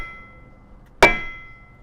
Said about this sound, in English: I use this dead blow hammer because it won't bounce,